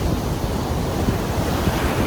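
Ocean surf on a Dominican Republic beach, a continuous broad rush of breaking waves mixed with gusty wind buffeting the microphone, loud and steady with no voices.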